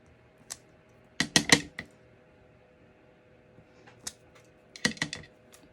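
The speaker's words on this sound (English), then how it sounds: "what I'm just going to do is stamp this all up and down this paper" A rubber stamp is pressed repeatedly onto paper for card making, giving sharp dry taps and pats that come in quick clusters with short pauses between them, close and distinct with no talk.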